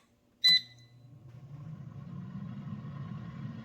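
Air fryer giving one short, sharp electronic beep as it is set, then the fan and heating element hum up into a steady low whir that grows slightly louder, close by.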